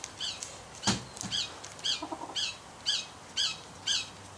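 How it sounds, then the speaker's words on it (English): Chickens cackle in a rapid, evenly spaced series of sharp alarm calls, moderately close and clear, as a hawk passes overhead. "Oh, the chickens hear the hawk."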